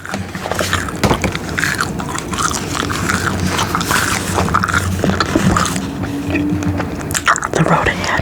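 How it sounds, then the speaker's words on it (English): Gum being chewed close to the mic in an ASMR setting: soft, wet smacking and clicking mouth sounds repeat steadily throughout, with faint breathy whispering mixed in. "let me grab a couple pieces of my chewing gum."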